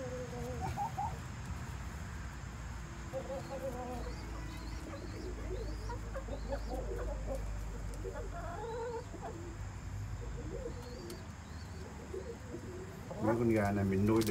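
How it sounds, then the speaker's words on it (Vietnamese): Chickens cluck in a large chicken coop on a small farm, with scattered clucks near and far over steady background noise and a louder burst of clucking at the end. "Mình đi vô thăm chuồng gà lớn."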